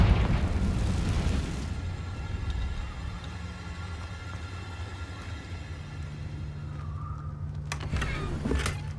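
Confringo spell explosion in the video game Hogwarts Legacy, opening with a heavy rumbling boom that fades into a low lingering roar, ending with a few sharp crackles near the close, no speech.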